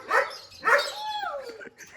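A dog barks twice in quick succession, close and fairly loud, and then gives a drawn-out whine that slides downward and fades.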